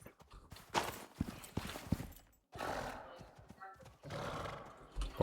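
Horse hooves clip-clop in the survival video game Icarus on the Olympus map, a quick uneven clatter of steps that comes and goes in bursts, fairly close, with no speech.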